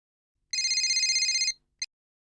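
A telephone bell rings once in a rapid trilling burst lasting about a second, followed by a brief second chirp, with silence around it.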